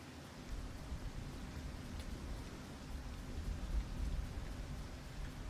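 Steady rain with a low thundery rumble falls in the sandbox mode of the video game Fortnite, a continuous hiss that swells slightly toward the end, with no voices.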